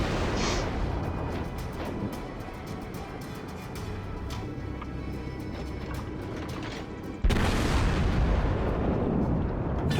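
Battleship secondary guns firing in World of Warships, a continuous rumbling barrage of distant booms and cracks that jumps suddenly louder and heavier near the end, with no voices.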